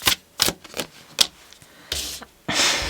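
Tarot cards are shuffled in a series of quick, crisp riffling and tapping bursts, irregularly spaced, ending in a longer rustling shuffle, with no talking.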